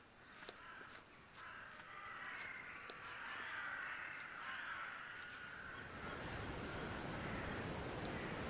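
Crows caw in the video game The Last Door, sharp repeated calls scattered across the clip over a steady bed of wind and sea noise that grows louder toward the end.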